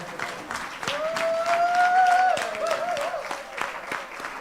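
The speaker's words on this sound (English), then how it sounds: "let's give a round of applause, not to Nico, but to ourselves" Attendees at a corporate services monthly meeting give themselves a round of applause, moderately loud clapping sustained for several seconds, with a sung or held voice rising above it partway through.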